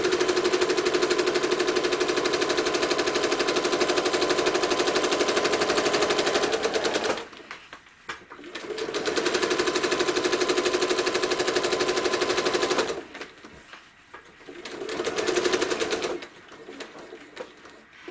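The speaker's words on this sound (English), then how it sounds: "I'm going to see how I can do this with my walking foot" A sewing machine with a walking foot stitches a small American flag quilt panel in fast, steady bursts, running loud and continuous, pausing briefly, running again, then slowing to a quieter finish.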